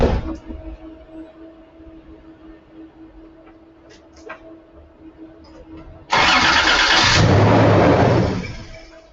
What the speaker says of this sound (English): This is our headlamp test to decide if the starter motor is doing the right thing, cranking speed's right.